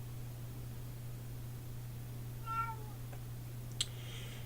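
A single short meow from a 19-year-old cat rises out of a quiet room with steady electrical hum, followed by a faint tap.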